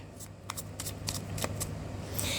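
Tarot cards being shuffled for a final time: a short run of crisp riffling flicks and snaps over a steady background hum, close by, with no talk.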